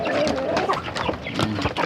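Breeding hens ready to lay, clucking in short, scattered bursts close by with a faint farmyard background.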